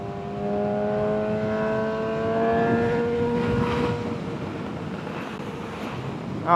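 A motorcycle ride recorded through a helmet microphone, steady engine drone with shifting pitch under a constant rush of wind noise.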